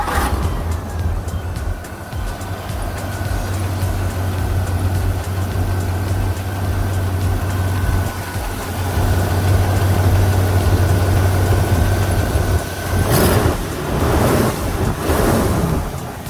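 A 1963 Pontiac Grand Prix with a 389 V8 idles steadily after startup, a low continuous rumble outdoors with wind noise, and a few louder bursts near the end.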